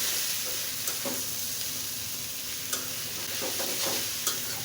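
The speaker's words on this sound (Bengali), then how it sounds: "শাকটার সাথে মিশিয়ে দেব।" Jute leaves being stirred into browned fried onions in a pan for pat shak bhaji: a steady close frying sizzle broken by occasional utensil scrapes and taps, with no voices.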